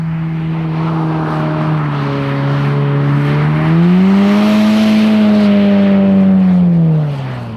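VW Golf R Mk 7.5 drifting in a circle on snow, its engine loud and sustained, revs holding then climbing and easing off as it slides round, with no speech.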